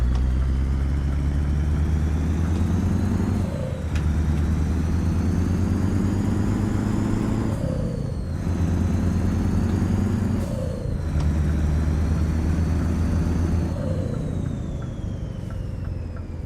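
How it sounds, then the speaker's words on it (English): A heavy truck engine in Euro Truck Simulator 2, a loud continuous low drone that swells and falls in repeated rev cycles, with gear changes every few seconds. "because I like the engine sound, sometimes I'll take it to like 2000 just over"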